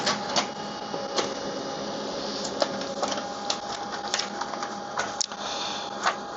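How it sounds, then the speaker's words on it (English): An HP LaserJet Pro MFP M28w laser printer runs a page through, giving a steady mechanical whir with repeated rattling clicks and a faint tone, close and fairly loud. "tap on print and let the printer to do its job."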